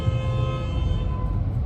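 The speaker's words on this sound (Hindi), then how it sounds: "इतना हॉर्न कहाँ बज रहा है" Car and truck horns honk continuously on a busy Indian highway between Bengaluru and Hyderabad, steady tonal blaring layered over loud road rumble with no pauses.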